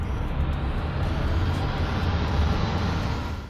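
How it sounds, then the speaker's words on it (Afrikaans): Airplane taking off, a steady broad engine roar with low rumble holding at moderate loudness, easing slightly at the end. "Die vliegtuig styg op."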